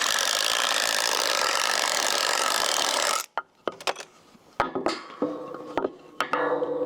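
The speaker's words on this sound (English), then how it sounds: "I'm just going to grab a big spade bit" A big spade bit bores through wood in one steady, loud grinding run for about three seconds, then stops, followed by scattered knocks and clatter of timber and tools.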